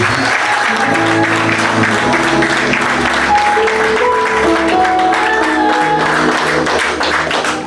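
A wedding congregation at a mixed Franco-Congolese ceremony applauds steadily and loudly, dense clapping sustained throughout with sustained musical tones running beneath it.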